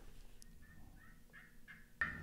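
A hand-operated turkey call imitating a hen turkey gives a string of short, rising yelps that start faint and grow louder, ending in a sharp, louder burst.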